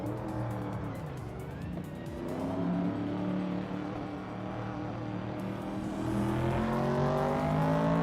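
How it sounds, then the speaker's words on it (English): A 1970 Plymouth Barracuda racing in a video game, its engine revving and droning steadily with shifting pitch as the car accelerates, plus other cars and faint tire noise, with no voices. "Frankenbals is driving a 1970 Plymouth Barracuda"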